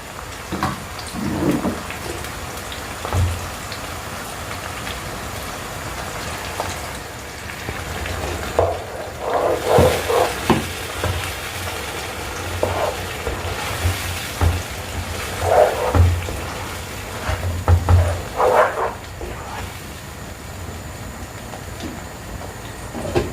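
Chopped pepper mix lands in a hot frying pan for a plantain and gizzard gizdodo, giving a steady, close sizzle with bursts of crackling spatter that swell and fade, with no one talking.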